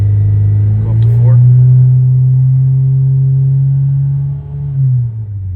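A 1999 Nissan Silvia S15 Spec R engine, heard close and loud as it rises from idle into a steady held rev, then drops back down near the end.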